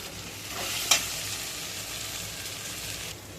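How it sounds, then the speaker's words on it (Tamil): Ginger garlic paste frying in a pan gives a steady, close sizzle with one sharp spoon scrape near the start, then continuous frying that cuts off at the end. "வீட்டில் அரைச்சி வச்ச இஞ்சி பூண்டு பேஸ்ட் போட்டு நல்லா கிண்டணும்"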